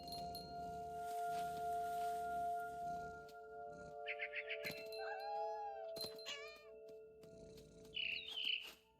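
A cat meows a few times in the video game What Remains of Edith Finch, with short rising and falling cries over a sustained musical drone and scattered clicks.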